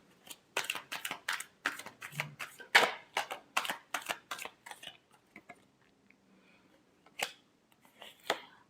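Tarot cards shuffled by hand in a series of quick, crisp riffling bursts, close and fairly loud, then fading to a few scattered flicks and taps.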